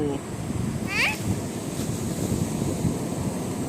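Ocean surf washes against the shore at Ao Nang beach in Krabi as a steady, rushing roar mixed with wind buffeting the microphone. A brief high voice chirps near the start.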